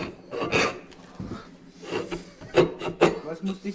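A hand saw cuts dovetails for wooden drawers, giving a few separate rasping strokes of varying loudness over low background noise, with two sharper strokes close together near the end.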